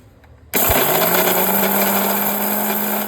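A mixer grinder starts abruptly and whirs at a steady high pitch while grinding jaggery on its own, loud and close, running continuously for about two and a half seconds before cutting off.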